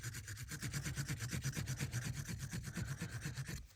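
A fat black Sharpie marker rubbed rapidly back and forth over textured embossed metal tape, producing a close, steady rhythmic scratching with quick regular strokes, no voices.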